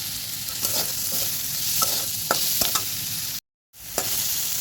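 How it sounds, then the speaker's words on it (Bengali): Eggplant fries in oil in a pan, giving a steady crackling sizzle broken by scraping stirs and clinks of the spatula, with a brief moment of silence partway through. "এখন বেগুন দিয়ে ভাজবো ভালো করে।"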